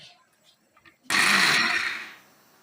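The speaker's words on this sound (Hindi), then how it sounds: "इसको मैंने अच्छे से ग्राइंड किया है" A loud electric mixer grinder whirs for about a second grinding soaked lentils with a little water, its churning roar cutting in abruptly and winding down, after faint kitchen sounds.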